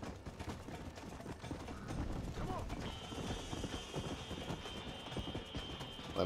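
Horse galloping in Red Dead Redemption, rapid rhythmic hoof clip-clop running steadily throughout at moderate level, mixed with game sounds and a faint whinny.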